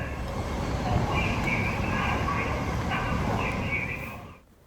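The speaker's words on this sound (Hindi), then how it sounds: "तो ये आ गई थी ट्रेन" A train pulls into a station in the UK on a cold, cloudy day, a broad steady rumble with a high whine and squealing brakes, fairly close, then it suddenly cuts off.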